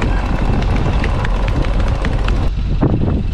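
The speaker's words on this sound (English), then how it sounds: "How about we give the engine a break?" A sailboat engine runs with a steady low rumble under wind buffeting at sea off Ireland's west coast, loud and close, with a faint voice partly audible.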